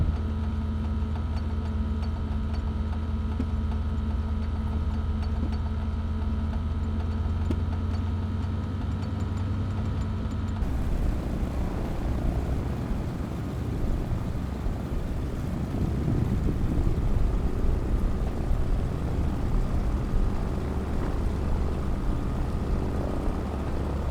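Engine of a de Havilland Beaver floatplane throbbing steadily with a loud, close, droning propeller tone, shifting to a rougher, broader roar as power comes up for departure.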